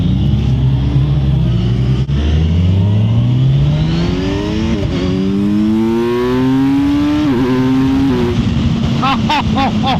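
A 2024 Kawasaki Ninja 1000 SX motorcycle accelerates hard, its engine note rising steeply through the gears in a loud, close, continuous wail with brief dips at each shift.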